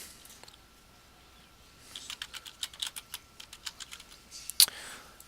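Keys clatter on a computer keyboard as a bed name is entered into equipment maintenance software, a quick run of light taps after a quiet start, then one sharper click near the end.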